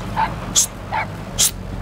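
A puppy in Metal Gear Solid V: The Phantom Pain gives four short, high yips in quick alternation, close and clear over a low steady game background, with no speech.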